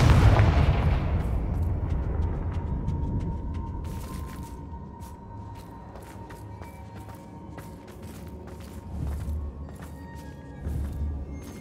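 Confringo spell blasts in Hogwarts Legacy: a heavy booming explosion up front that decays into a long rumble, followed by scattered crackling bursts and sharp impacts, with no voices.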